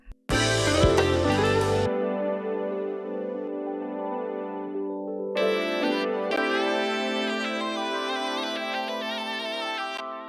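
Rhodes electric piano sample chord progression reworked into a synth sound in Ableton Live, opening with a loud chord burst, then sustained chords, with brighter synth layers entering midway; steady and fairly loud with no talking.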